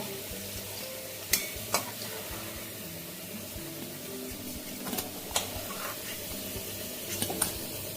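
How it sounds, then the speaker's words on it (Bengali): Potatoes fry in hot oil for a pabda fish curry, a steady close sizzle broken by a few sharp clinks of a utensil as the pieces are lifted out. "ওই তেলের মধ্যেই আলুগুলো ভেজে নেবো"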